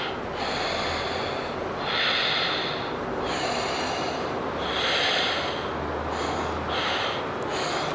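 Audible breathing during a yogalates exercise with blocks and bands: slow, deliberate breaths drawn in and pushed out through the nose, about four in eight seconds, close and clear with no talking.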